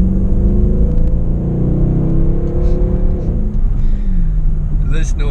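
Mercedes-Benz C63 AMG Black Series engine rumbling steadily at close range, a deep continuous drone with slight shifts in pitch, heard from inside the car.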